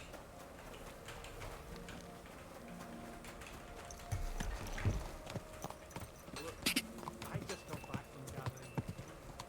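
Steady horse hooves clip-clop in Kingdom Come: Deliverance II, growing louder midway, while a person talks briefly.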